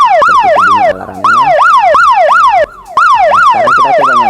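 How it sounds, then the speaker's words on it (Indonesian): A network ONU device's power-off alarm, a loud, rapidly rising and falling electronic tone, repeats in steady cycles, with two brief dips in loudness partway through. "Oke, seperti itu bunyi alarmnya."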